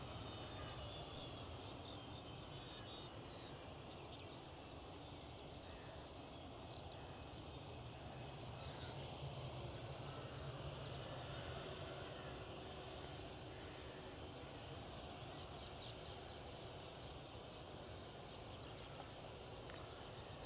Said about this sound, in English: our inbound EasyJet from London Luton, as already described in the chat, an Airbus A319-100, 18 years of vintage